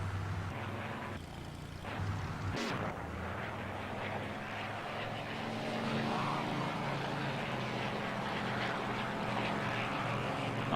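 A Spitfire's piston engine drones steadily in flight in Flight Simulator X, a Battle of Britain Memorial Flight formation, as a continuous mid-loud hum with a brief sharp click early on and no speech.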